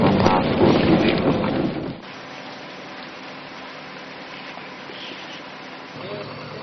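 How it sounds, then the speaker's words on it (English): Loud roaring rain with a rumble of thunder for the first two seconds, then steady heavy rainfall continuing at a lower level. "now it's like torrential rain with thunder and lightning"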